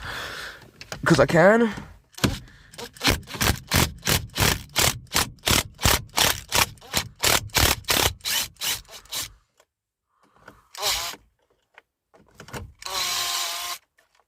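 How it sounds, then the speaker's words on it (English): An impact driver backing out Torx T30 bolts from the steering wheel of a Honda Civic Type R FN2: a whirring spin-up, then a long run of evenly spaced loud mechanical bursts, followed by two brief whirs after a pause, close up. "I'm just going to use an impact driver because I can"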